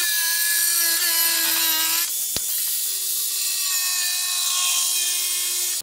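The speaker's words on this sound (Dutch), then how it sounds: "Ik ga eerst nog even het laatste stukje wat ik niet nodig heb ervan afzagen" Continuous whining buzz of a power saw cutting wood for a nest box, pitch dipping under load, with a short break and a sharp knock midway.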